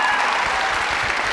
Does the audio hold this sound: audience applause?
yes